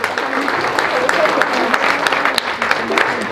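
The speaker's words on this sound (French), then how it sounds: "applaudissez pour elle s'il vous plaît, mesdames et messieurs, Zara" A seated audience applauds a speaker at an event, a dense run of claps with voices talking over and under it.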